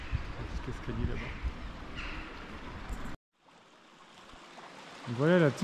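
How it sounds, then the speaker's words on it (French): A small waterfall flows under a bridge over eroded rock in Morocco, a continuous rushing trickle heard under speech, cut briefly before resuming with a voice over it. "Voilà la petite cascade là qui passe sous le pont."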